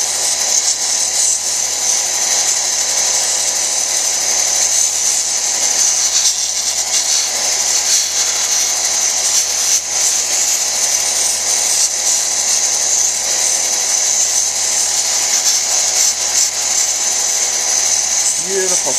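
A lapidary wheel grinds a chrysocolla cabochon, giving a steady, loud high-pitched whine with a continuous abrasive hiss throughout, close up and unbroken.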